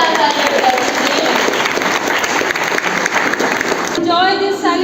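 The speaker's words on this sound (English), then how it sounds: "एक बार सभी के लिए जोरदार तालियां बजा दीजिए।" An audience at a school annual day celebration applauds, a steady, loud wash of clapping filling several seconds before a voice begins speaking at the end.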